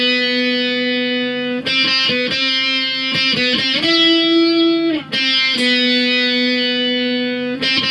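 Distorted electric guitar playing the solo from a song, with sustained bends and quick note runs, loud and close with no voices.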